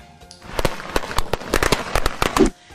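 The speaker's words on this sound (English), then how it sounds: "You can utilize some common Chinese New Year props such as ang baos, or lychee packets, AKA red envelopes, red lanterns, or even Chinese New Year firecrackers." Chinese New Year firecrackers snapping in a rapid, irregular string of loud, sharp pops, close and dense, ending abruptly.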